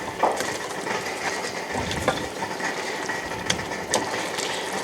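Chicken paprikash is stirred in a pot, giving close, irregular scraping and clattering scrapes with a few sharper knocks, no talking.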